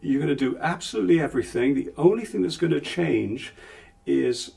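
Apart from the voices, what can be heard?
No everyday noises stand out.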